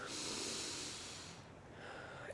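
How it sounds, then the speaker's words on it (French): Slow, deep breathing through the belly, a long airy exhale that fades out and then a fresh inhale rising near the end, close and steady with nothing else heard. "c'est bien de faire une respiration par le ventre"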